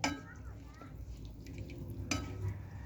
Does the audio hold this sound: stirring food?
yes